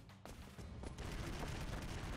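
Dense, continuous gunfire from the video game Broforce, rapid overlapping shots and explosive bursts that build quickly and stay loud and sustained with no talk.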